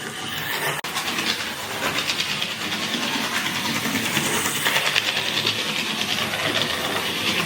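A vintage OO gauge model locomotive runs along its track with a steady, continuous rattling clatter and rhythmic wheel ticking that holds close and fairly loud for the whole stretch, no voices over it.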